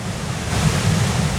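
Raymond Creek Falls swollen after heavy rainfall, a steady broadband roar of thundering water that stays constant and loud with no voices over it.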